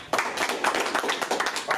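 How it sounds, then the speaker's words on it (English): A small audience claps for a guest, a brisk, close burst of hand claps with some scattered voices mixed in, starting abruptly and carrying on throughout. "Give him a round of applause."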